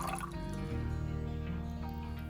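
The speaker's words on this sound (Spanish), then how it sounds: "En un bol echamos los 80 gramos de agua" Pouring 80 grams of water into a bowl, a brief steady trickling fill lasting about two seconds, close and clear with no talking.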